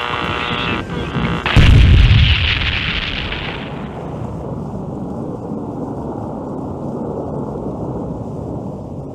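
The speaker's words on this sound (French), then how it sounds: "Étonnante explosion à la centrale nucléaire de Doul" An explosion at a nuclear power plant in Doul bursts out as one loud, close blast, then rolls into a long, heavy rumble that slowly fades but keeps droning for several seconds.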